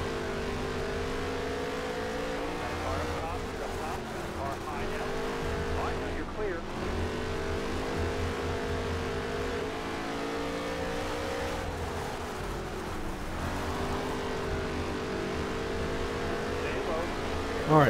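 Steady droning NASCAR race car engines on the Las Vegas dirt track in NASCAR Heat career mode, a continuous revving roar with pitch dips and swells as cars lift and accelerate, another car close behind, under commentary talk.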